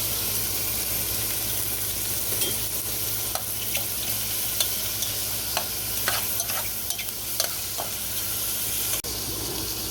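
Sliced jarred mushrooms and a spoonful of garlic sizzle steadily in a pan, with scattered scraping clicks of stirring over the constant frying hiss, moderately close and no voices.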